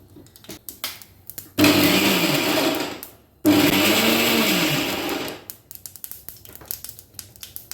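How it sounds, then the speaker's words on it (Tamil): A kitchen mixer grinder pulses coconut into coarse gratings. Two loud, close whirring bursts of about one and a half to two seconds each are separated by a brief pause, with clinks and handling noises before and after. "லைட்டாக தேங்காவை மிக்சியில் பல்ஸ் மோடில் வச்சு அரைச்சோன்னா தேங்காய் துருவல் மாதிரி கிடைக்கும்"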